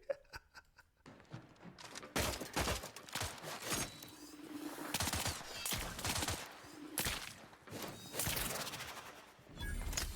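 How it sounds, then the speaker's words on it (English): A slow-firing gun shoots in a video game: loud, punchy bursts of gunfire arrive in irregular clusters, layered with whooshing and sharp cracks over about ten seconds. "That gun shoots slow as shit."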